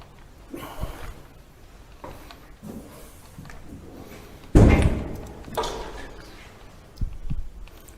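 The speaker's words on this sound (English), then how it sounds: "After you're going to hear a door." Faint thumps and shuffling lead to a single sharp door-like slam, followed by lighter knocks and a final softer thud, recorded at night during a paranormal investigation with no voices heard.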